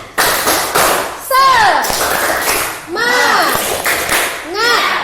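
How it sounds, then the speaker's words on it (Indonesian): Children in a classroom do a rhythmic spirit-clapping routine, with sharp claps in bursts mixed with their loud, sing-song chanting voices throughout. "Tepuk semangat."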